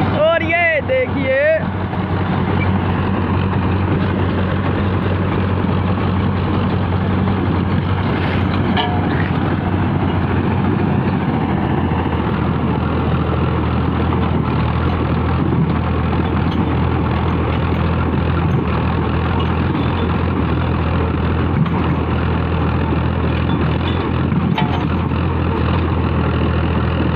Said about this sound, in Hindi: ट्रैक्टर का मुकाबला कोई भी ट्रैक्टर आगे पीछे नहीं हो रहा है।